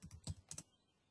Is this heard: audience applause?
no